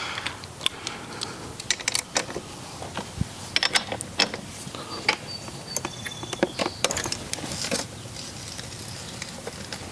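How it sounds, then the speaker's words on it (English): Wrench and ratchet clicks, metallic taps and small mechanical clatter while the rear wheel comes off a Honda CR80R dirt bike, close up and intermittent, with no talking. "I think we're gonna try to get this rear wheel off now"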